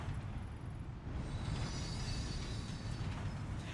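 Train sound effects from the video game Death Stranding 2: a continuous low rumble of a moving train with a faint high squeal near the start, steady and fairly close, no talking.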